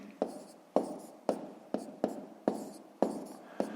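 Pen or pencil strokes on paper while a multiplication is worked out by hand, a series of about eight distinct taps and scratches in a regular rhythm, quiet and close, with no talk.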